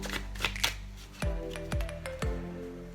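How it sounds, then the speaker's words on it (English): Quick, soft papery overhand shuffle of a deck of playing cards at the start, followed by three clear ringing chime-like tones spaced evenly apart. "is the overhand shuffle."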